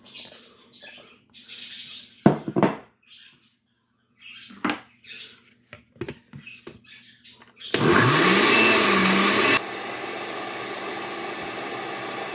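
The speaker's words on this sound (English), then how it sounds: "I'm going to add half of the veggies to the blender and blend it up" A kitchen blender purees vegetables for a slow cooker lasagna sauce: a loud, steady whirring roar that cuts in abruptly after scattered kitchen clatter, runs for about two seconds, then drops to a quieter continuing hum.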